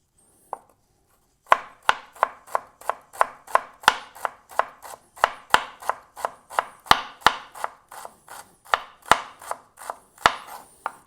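A knife chops an onion on a board in a steady run of about two dozen sharp, evenly spaced strikes, close and crisp, after one lone tap, with no talking.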